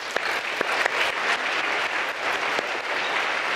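Audience applause at a lecture show on arithmetic, a dense steady patter of many hands clapping, with a few sharper individual claps standing out, sustained evenly throughout.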